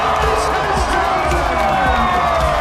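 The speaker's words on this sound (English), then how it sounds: "crowd cheering" Crowd cheering at the Formula 1 Barcelona-Catalunya Grand Prix podium for Lewis Hamilton: a loud, continuous wash of cheers, whoops and shouts from a large outdoor audience that holds steady throughout.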